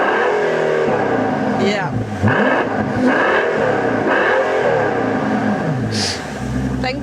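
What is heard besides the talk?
Mercedes-Benz S65 AMG V12 engine revving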